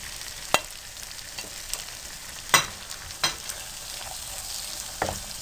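Okra sizzling in a hot pan with potatoes, a steady dense frying hiss with a few sharp clinks of a stirring utensil, close and without talk.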